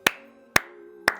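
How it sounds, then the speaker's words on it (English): Three sharp, evenly spaced hand claps, close and loud, with short ringing decays between them and no talking. "I just want to sit here and clap him for the rest of the video"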